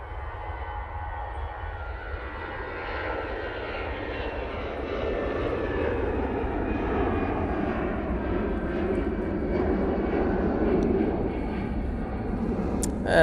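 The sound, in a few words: EasyJet airliner departing Manchester Airport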